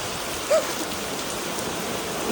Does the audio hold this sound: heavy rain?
yes